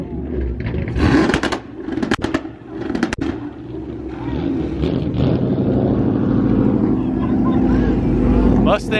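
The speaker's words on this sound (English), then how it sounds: "Rev battle." Car engines rev hard in a rev battle at a Halloween car meet, loud throaty bursts rising and falling among shouting and cheering voices, building to a sustained roar near the end.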